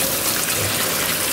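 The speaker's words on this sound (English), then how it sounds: "I'm just going to take these off the stove and strain them and give them an extra rinse for good measure" Water gushing steadily over cooked beans in a strainer during rinsing, a loud close continuous splash.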